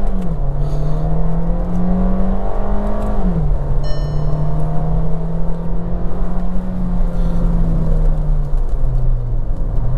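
Engine of a 2024 Skoda Slavia 1.5 DSG sedan drones steadily while driving, its pitch rising and dipping through shifts, a loud continuous hum from inside the car with no talking.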